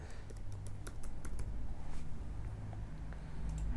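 Keys clatter on a computer keyboard in quick, irregular bursts of typing, close and moderately quiet, with no talking.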